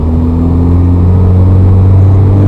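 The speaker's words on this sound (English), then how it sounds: "clutch up to bite, little bit of gas, gonna keep it in first gear" A manual-transmission car engine holds steady revs in first gear, a loud, close, continuous drone with a strong low hum and no pauses.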